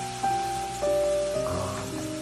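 Garlic and turmeric sizzle in melted coconut oil in a pan, a steady close crackle with a few clinks of a utensil, no talking.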